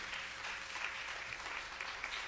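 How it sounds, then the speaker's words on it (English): A church congregation claps hands in praise, a steady dense patter of many hands heard fairly close and sustained throughout without talk. "Can we give the Lord another hand clap of praise?"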